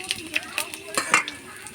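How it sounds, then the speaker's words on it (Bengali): Five-spice seeds and a dried chili crackle in fish oil in a pan, giving sharp intermittent pops and sizzles with a few stirring clinks, close and fairly quiet. "ওই তেলের মধ্যে 5 ফোড়ন আর একটা শুকনো লঙ্কা দিয়ে দেবো মাছের তেলের মধ্যে"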